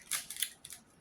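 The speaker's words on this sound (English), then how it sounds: "Now I'm going to have to find my scissors and cut one of these open" Scissors snip into a diamond painting kit package with three quick, crisp cuts, faint and close, in a quiet room.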